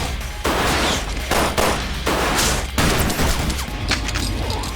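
Loud weapon fire in Resident Evil 4 Remake, a series of heavy shots and blasts with crashing impacts and ringing tails, close and continuous, with no talk.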